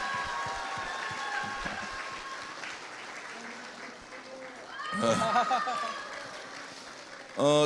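A crowd claps steadily, swelling louder midway and ending in a sharp burst, with a voice speaking over the start.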